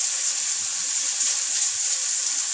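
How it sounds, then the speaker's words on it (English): Water is poured into a pan holding melted nduja, a steady bright hissing rush with faint sizzle, continuous and close, with no voices. "I'm going to add a little bit of water"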